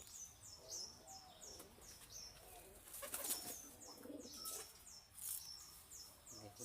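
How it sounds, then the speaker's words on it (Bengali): A pair of newly bought pigeons coo and chirp up close, repeated soft calls with a brief flutter of wings and low background noise. "দেখুন পায়রা দুটো কেমন।"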